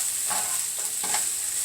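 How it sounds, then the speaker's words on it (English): Onions fry in a pan for a pineapple rice bowl, giving a steady close sizzle with a few soft stirring scrapes and no talking. "I'm just going to cook it until the onions are more so translucent"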